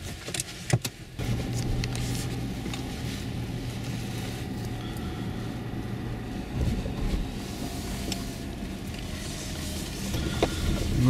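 A Honda CR-V 2.0 drives through the streets of Kraków, giving a steady cabin hum of engine and road noise. A few sharp clicks come near the start, and the drone swells slightly toward the end.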